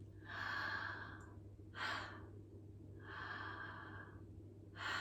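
Deep breaths in a guided breathwork session: long, airy inhalations and exhalations that repeat in a slow, steady rhythm over a low background hum, close to the microphone, with no talking.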